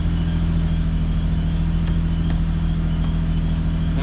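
A Nissan G35 with an Apexi N1 exhaust idles after a cold start, giving a loud, steady, deep droning rumble with no revving.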